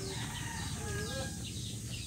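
Chickens at a goat farm give short clucking calls with brief rising tones over steady low farmyard noise, loud and close throughout with no voices.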